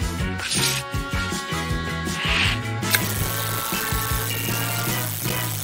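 Magnetic pen parts spun like a fidget spinner give off a steady, close, ratcheting whir of rapid mechanical clicks that runs for several seconds with a tonal hum beneath.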